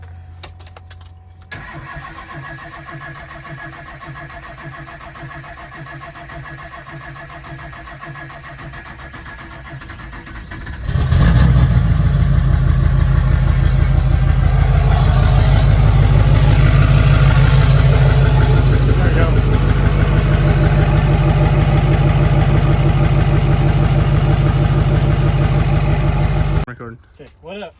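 A Duramax diesel pickup truck engine cranks and catches, then settles into a loud, steady diesel idle close by for about fifteen seconds before cutting off, with a brief voice heard over it.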